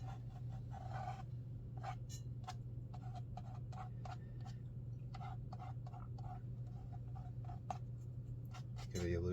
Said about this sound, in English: We haven't done any scraping, so we could take a card.